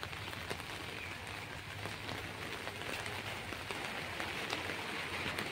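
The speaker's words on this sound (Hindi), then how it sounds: "बारिश हो रही" Steady rain pattering on an open umbrella while someone walks along an empty road, a close, even hiss of drops with faint taps, no talking.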